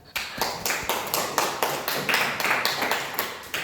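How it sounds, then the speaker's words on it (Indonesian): A classroom group claps for group 1 of a math class, a scattered cluster of hand claps with regular bursts repeating about every half second, close and fairly loud with no talking. "Kita beri aplaus untuk kelompok 1."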